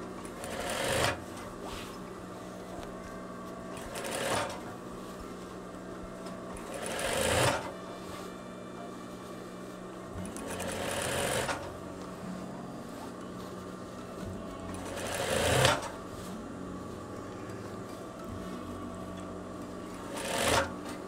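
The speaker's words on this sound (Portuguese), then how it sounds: "Vou passar mais uma costura" A sewing machine stitches seams on a veterinary coverall, whirring in about six short bursts at a regular rhythm with quiet pauses between runs, close and moderately loud.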